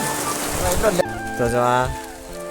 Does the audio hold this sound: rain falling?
yes